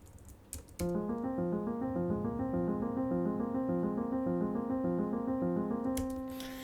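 A dry Steinway piano plays a repeating pattern of clear, crisp notes with no reverb or room echo, steady rhythm, close and even in volume.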